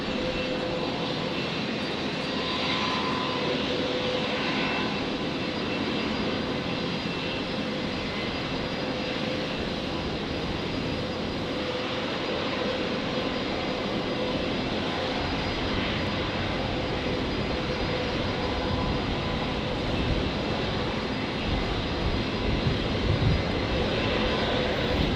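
Airliner taxiing at Brisbane Airport after landing on runway 01 left, its engines a steady, distant whine and rumble that holds evenly throughout with no voices.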